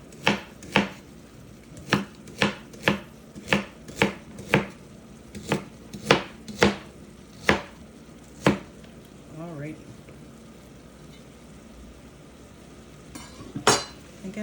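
Parsnips are being chopped with a knife on a cutting board for a blended winter soup, about a dozen crisp close knocks in an uneven rhythm, then a pause and one more cut near the end.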